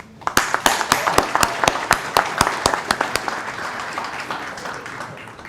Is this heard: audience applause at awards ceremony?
yes